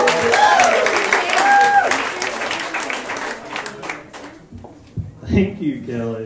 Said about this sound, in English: So clap your hands, everybody, for Jason Webb